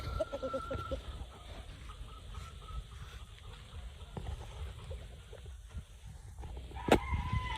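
Roundhead gamefowl rooster of the Gary Gilliam line in breeding condition: clucks and fowl calls in a farmyard, plus one brief loud crow near the end, with someone talking throughout.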